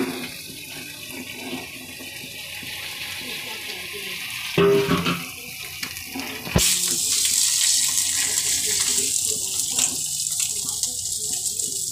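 Tomatoes go into a pan of frying fish egg curry made with rohu roe, bringing a sudden sizzle and a bright hiss that carries on steadily after a clatter.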